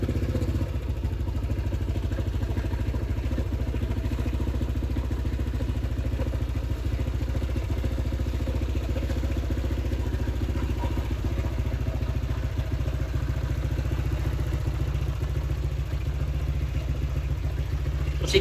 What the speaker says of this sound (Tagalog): paandarin nyo lang yung motor nyo ng 5 to 10 minutes